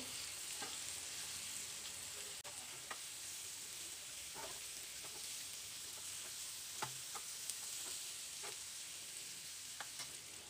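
Green egg fry sizzles steadily in a pan over a low flame after being flipped. The frying hiss is constant and close, with faint crackles and small ticks throughout and no talking.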